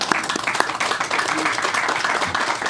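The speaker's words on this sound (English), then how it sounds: "So round of applause for" An audience at an apartment funding announcement claps for the developers, a steady round of applause with individual sharp claps standing out near the front and some voices mixed in.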